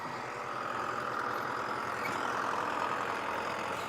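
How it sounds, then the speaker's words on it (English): Steady, low engine drone of a tractor idling some distance behind, a continuous even rumble with no talking over it. "You can hear the tractor behind me."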